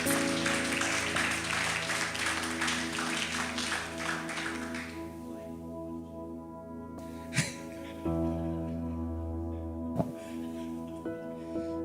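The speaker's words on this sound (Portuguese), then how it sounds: "Aplauda Jesus aí para ficar mais gostoso." Applause fills a church service for a sermon by a pastor at a Baptist congregation, dense and steady for several seconds, then thinning out and fading under sustained organ or keyboard tones with a few scattered claps.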